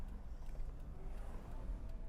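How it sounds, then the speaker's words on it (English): Steady low rumble of wind and road noise inside a truce over 20 years old with the windows rolled up, a continuous muffled drone without any voices. "That should buffet some of the wind and road noise coming through"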